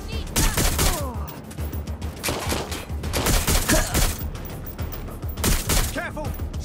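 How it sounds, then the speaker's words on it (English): Gunshots in Watch Dogs Legion, loud rapid volleys in repeated bursts with brief lulls, sometimes automatic-sounding, with shouting voices in between. "Shots fired!"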